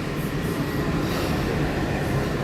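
A Walt Disney World monorail train rolls along in a steady, loud rumble with a continuous whir and rushing noise from inside the moving car, no talking.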